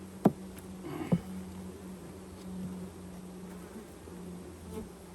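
Honey bees on feed buzz faintly around hive frames in an apiary, a soft continuous drone with a couple of brief louder buzzes as individual bees pass close near the start.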